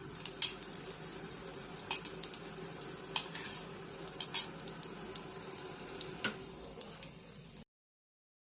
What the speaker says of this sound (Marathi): आपण लसण कट केलेला आहे आपण छान असा गोल्डन पोहू द्यायचा